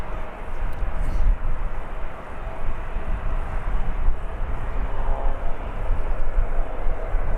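An airliner in a .com livery departs Birmingham Airport, a steady broad jet roar holding at a fairly even loudness throughout at moderate distance.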